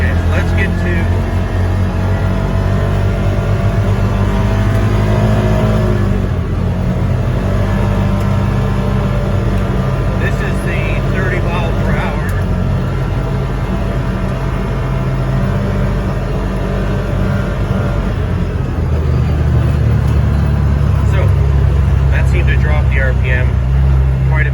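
A CFMOTO Uforce 600 UTV fitted with a new primary clutch and 16g weights drones steadily as it is driven over bumpy, puddled ground, loud and continuous, with someone talking over it throughout.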